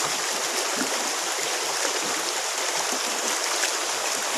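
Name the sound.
washing freshwater algae in a basket with water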